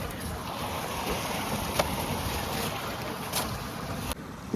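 Wind blows steadily over a paddy field outdoors, a constant rushing, buffeting noise against the microphone with a few faint clicks and no clear talk.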